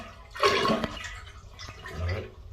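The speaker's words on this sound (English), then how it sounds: "I'm going to flush a little bit." A toilet flushes briefly during a fill valve replacement, a close rushing gurgle of draining water that surges, then tapers into a softer swirl with no talking.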